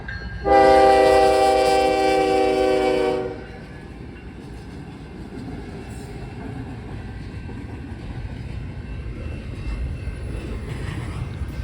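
An approaching train sounds one long, loud blast of its horn, then a steady rumble of rolling wagons carries on alone.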